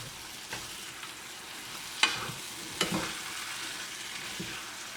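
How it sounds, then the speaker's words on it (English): Green bean curry with coconut cream being stirred over high heat, a soft steady sizzle with a few sharp spoon scrapes and clinks against the pan, close and alone with no talk. "give it a good stir"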